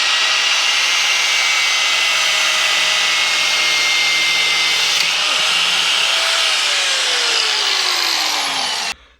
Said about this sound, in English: I'm going to come over here and go ahead and cut it.